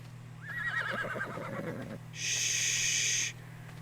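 A horse in the video game Ark Survival Evolved gives a clear, wavering whinny, followed by a second brighter, sustained neigh, both close and loud over a steady low background hum.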